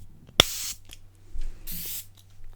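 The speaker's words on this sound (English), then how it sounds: "Let me just give you guys a little spritz so that you can feel" Two quick, close hissing spritzes of makeup setting spray, separated by a short pause in an otherwise quiet room.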